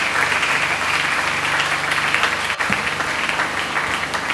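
A church congregation breaks into sustained, loud applause during a sermon, a dense, steady clatter of many hands clapping with scattered cheers mixed in.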